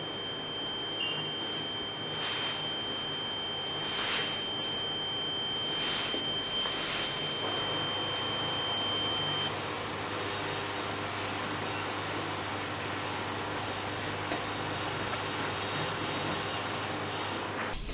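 A reconditioned smoke detector head alarm sounds a few faint beeps early on over a steady mechanical hum, then only the hum continues.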